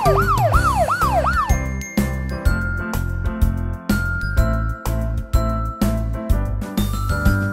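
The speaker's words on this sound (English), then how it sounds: "Small police car." A small toy-style police car siren wails in rising and falling sweeps over the opening second and a half, then gives way to a bright jingling melody with steady percussion throughout, loud and up front.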